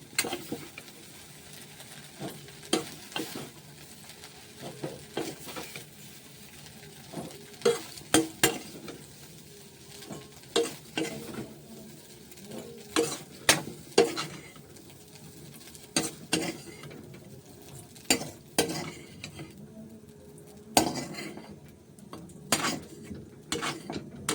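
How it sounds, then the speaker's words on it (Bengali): Soybean chunks frying in a pan while a utensil stirs and scrapes, giving irregular clinks and knocks over a faint low sizzle, with no talking. "দেখতে পাচ্ছ অনেকগুলো সোয়াবিন ফ্রাই করছি"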